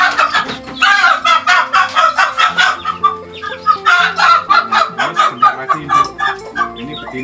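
Chickens cluck loudly and repeatedly in a farm coop, with a rapid, busy rhythm of overlapping calls from close by and a few crow-like notes, and no voices.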